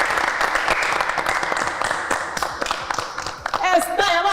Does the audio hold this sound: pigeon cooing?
no